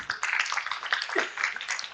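Conference attendees clap at an internet governance forum to welcome a speaker, a short, even patter of applause at moderate volume.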